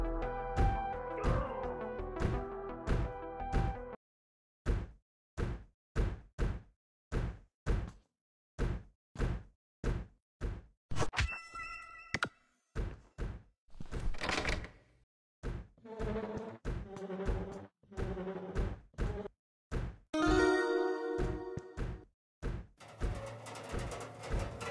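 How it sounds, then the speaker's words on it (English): Repeated heavy bangs on a door in the horror video game Ice Scream 8, sharp irregular impacts in quick bursts, some closely spaced, with brief creaks and rattles between them and no talk. "the crazy ice cream man is gonna break the door down any minute"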